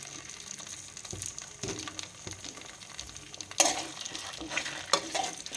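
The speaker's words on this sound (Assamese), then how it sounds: "মই এতিয়া এই ঔটেঙাখিনি ইয়াতে দি দিছোঁ" Pieces of elephant apple frying in hot oil, soft sizzling with stirring scrapes and a couple of louder bursts as the pan is worked, close and fairly quiet.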